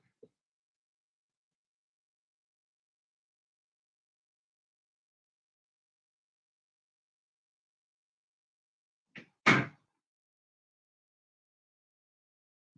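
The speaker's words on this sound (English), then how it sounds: "Sorry, I had to shut my door." An interior room door is pushed shut in a quiet room, giving a single solid thump with a faint latch click just before it, alone against near silence.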